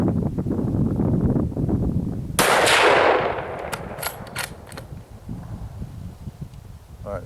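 A single loud, close rifle shot from a Remington 700 ADL Varmint in .308 Win cracks sharply over outdoor wind noise, followed by a decaying report and a few faint clicks.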